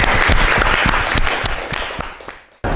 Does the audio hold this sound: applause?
yes